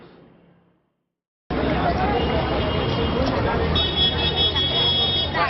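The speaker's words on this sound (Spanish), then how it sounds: "algunos carros que suenan y tocan bocina" Busy street traffic in Lima, Peru, with a steady wash of engines and a sustained car horn sounding near the end, after a brief quiet start.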